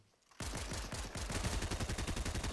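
Pistol fire in Fortnite bursts out suddenly and keeps going as a rapid, steady string of close, punchy shots, loud and continuous, with no talk over it.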